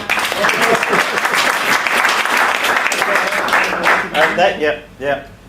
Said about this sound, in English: a round of applause for the revelation